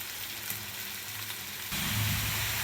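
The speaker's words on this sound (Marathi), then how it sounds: "तर सगळ्यात पहिल्यांदा आपल्याला हा कांदा भाजून घ्यायचा आहे" Chopped onion sautéing in a pan for egg bhurji, a steady soft sizzle that swells louder partway through, close by with no talking.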